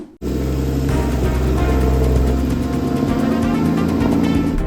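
A Porsche GT4 with a manual gearbox starts and pulls away, its engine droning loudly and steadily up close from cabin level, with a sustained tonal whine over the rumble.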